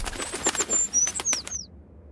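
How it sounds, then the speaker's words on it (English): A small bird's wings flutter briefly against a house window, a quick run of soft flaps mixed with thin, high chirps that stops abruptly. "If a sparrow brushed a window ever so slightly"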